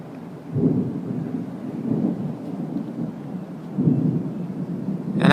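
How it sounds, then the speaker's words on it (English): A strong thunderstorm in Hoover, Alabama: steady rain and wind hiss are broken by repeated deep, rolling thunder rumbles that swell and fade. No voices are heard. "This is a good thunderstorm here at 3340."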